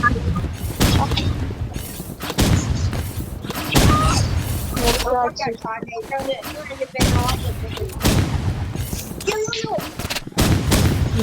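Dense bursts of gunfire in a shooting video game, with rapid automatic fire and heavy booming shots in loud clusters, separated by short lulls, while players talk excitedly over it.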